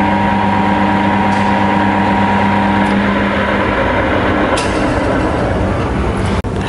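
A HAFCO Metalmaster AL-336D Deluxe metal centre lathe runs in reverse at about 100 RPM, giving a loud steady mechanical hum and drone with faint whining tones and a brief click near the end, with no talk.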